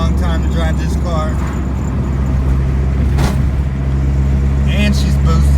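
A turbocharged Honda Civic hatchback drives down the road, its steady engine drone and road rumble loud and continuous from inside the car, with someone talking briefly over it.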